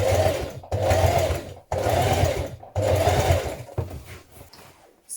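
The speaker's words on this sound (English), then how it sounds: "I've sewn down both sides of the legs now" A sewing machine stitches down the sides of jeans legs in three steady runs of about a second each, separated by brief pauses, with a faint click at the end.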